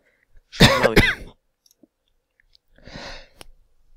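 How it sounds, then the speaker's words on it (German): A man coughs twice, one sharp cough right after another, close and loud, followed by a softer throat-clearing rasp a couple of seconds later, with no talking. "habe ich da irgendwie mir einen Husten geholt gerade"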